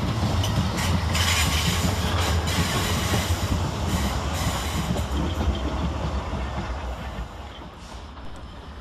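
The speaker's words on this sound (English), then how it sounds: "Passing through fast, working 1P59 from London Waterloo to Portsmouth Harbour is 450-115, 450-048 and 450-088." A Class 450 electric train formed of 450-115, 450-048 and 450-088 speeds through Clapham Junction on a Waterloo to Portsmouth Harbour run, with a loud continuous roar and clatter of wheels that fades toward the end.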